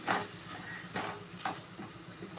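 Spices and tomatoes sauté gently in a pan for an eggplant curry, giving a soft, steady sizzle with a few brief stirring scrapes and a louder clatter at the very end.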